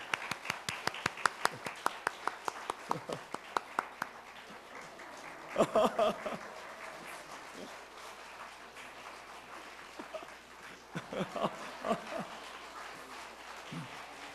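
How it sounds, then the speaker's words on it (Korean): Church congregation clapping, a run of separate sharp claps at first, then bursts of fuller applause mid-way and near the end, fairly faint with quieter gaps between. "박수만."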